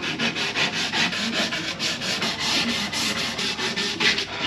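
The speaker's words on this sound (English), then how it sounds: "we need to sand our frame" A wooden cabinet face frame is sanded by hand with rapid back-and-forth rubbing strokes, a dense rhythmic scratchy swish repeating about three times a second, loud and close with no voices.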